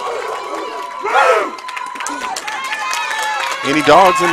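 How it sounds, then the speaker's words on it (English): Spectators cheer and shout at a college bowling championship, a lively crowd roar under a nearby voice, rising at the start and again near the end. "They have quite the cheering crowd back here as well."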